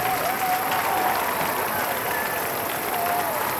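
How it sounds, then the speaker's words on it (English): Audience applause for a band after a performance at a student gathering, a dense, steady wash of clapping and crowd noise that holds evenly at full level throughout. "Give them a big round of applause"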